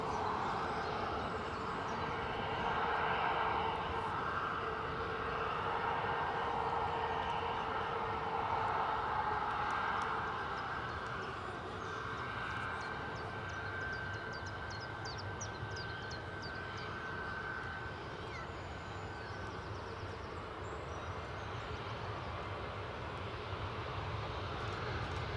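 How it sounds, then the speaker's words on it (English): A British Airways airliner on final approach into Edinburgh makes a steady, distant broadband jet roar with a sustained whine, holding alone for the whole stretch. "That's somebody else, a British Airways arrival from London Heathrow."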